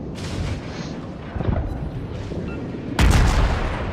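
Naval guns on a warship in the game World of Warships fire shells in heavy booming bursts, with a loud, close blast near the end over a constant rumbling battle backdrop.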